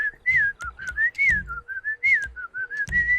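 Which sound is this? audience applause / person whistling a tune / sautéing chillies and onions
person whistling a tune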